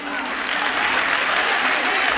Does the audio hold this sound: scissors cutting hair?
no